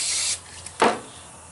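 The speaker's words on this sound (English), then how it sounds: "I'm going to use some lithium, white lithium, spray it on the inside of my die." White lithium lubricant is sprayed from an aerosol can inside a ring die: a steady hiss for about a third of a second, a small click, then a second short, louder burst of spray, close up.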